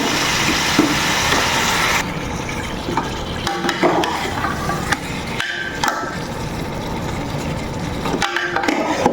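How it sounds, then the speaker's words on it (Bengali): Meat being stirred and fried in a pot, with a loud frying hiss at first, then rough scraping and knocking of a spoon against the pot in irregular strokes, close and without talk. "এখন মাংসটা হলো আমার ভালোভাবে কষিয়ে নিতে হবে"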